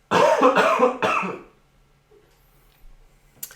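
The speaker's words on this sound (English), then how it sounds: "He just coughed." A close, loud burst of three harsh coughs in quick succession, followed by quiet.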